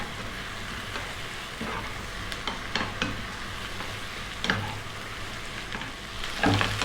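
Cabbage stir-fried in a wok over high heat sizzles steadily, broken by scraping stirs and louder clanks of the utensil against the pan.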